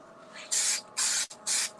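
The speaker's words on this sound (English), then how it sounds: "We're going to do 7 coats spraying activator in between each." CA glue activator sprayed onto a pen blank during a pen-finishing session, three short hissing bursts from a spray bottle close by, separated by brief pauses.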